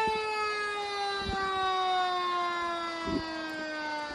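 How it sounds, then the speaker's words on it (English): A fire engine siren wails steadily through a Fourth of July parade, its sustained rising-and-falling tone loud and continuous, with a few low thumps and crowd rumble underneath. "here we're finishing up with the fire engine, 517"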